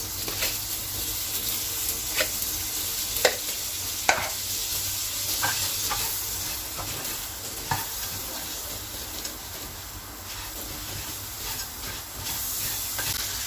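Butter sizzles steadily in a hot pan over toasted noodles, a constant close frying hiss broken by occasional stirring clicks and taps.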